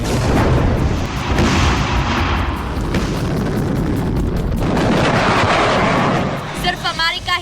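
Loud, continuous rumbling blasts and booming explosions from ballistic missile strikes on Russian forces during the war in Ukraine, dense and heavy throughout, with a brief crackling burst near the end and a voice partly audible under the noise.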